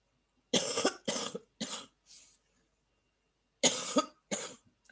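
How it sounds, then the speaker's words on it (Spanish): A run of harsh coughs in two clusters, four bursts then a pause and three more, close and fairly loud with silence between. "Algún día se me va a ir la tos."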